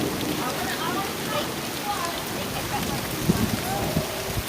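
Steady rain patters on a Las Vegas street, a dense close hiss with occasional louder drips, continuing evenly throughout.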